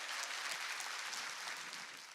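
A church congregation at a spring revival service claps hard and steadily, a dense, even wash of handclaps that carries on without pause and with no talk over it.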